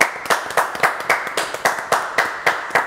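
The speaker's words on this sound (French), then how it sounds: "Bon, on va l'applaudir quand même." A small group claps in a slow, steady rhythm, about three sharp claps per second, close and clear, during a French live radio show.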